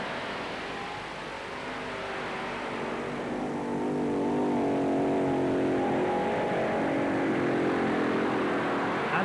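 A Cougar pulling tractor roars through a tractor pull run at the Euro Cup in Hörby, a loud, sustained engine howl that builds and holds steady near the microphone without speech.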